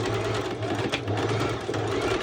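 Sewing machine running a straight stitch on ruched daisy shorts, a rapid continuous needle chatter with motor hum, close and steady throughout.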